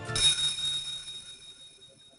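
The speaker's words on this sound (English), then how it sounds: "And it dings again. It's the sound of the bell I heard earlier." A single bright video game bell ding rings out and slowly decays, its metallic overtones lingering for about two seconds.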